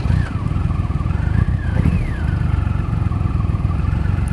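A Triumph Rocket 3 motorcycle's big engine runs steadily up close, a low, dense rumble with a brief rise in revs partway through and faint mechanical clatter.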